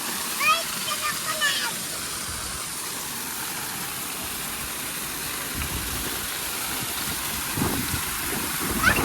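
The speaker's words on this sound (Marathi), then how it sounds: "पाणी पडतं बघ" Steady broadband roar of rushing water falling at a waterfall fills the whole clip, with a few brief voices and shouts rising over it near the start and end.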